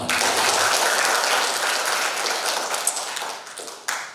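Applause from a seated audience at an MC training session, a dense sustained wash of clapping that tapers slightly toward the end, with a few sharper claps standing out.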